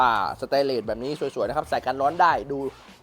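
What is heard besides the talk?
No distinct noise like a dog, phone or traffic.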